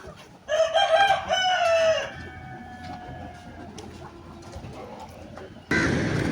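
On a Pakistani poultry farm, golden desi chickens cluck and a rooster lets out a loud crow nearby, followed by softer background clucking and a burst of rustling noise at the end.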